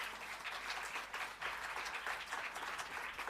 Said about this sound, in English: I want a loud round of applause for it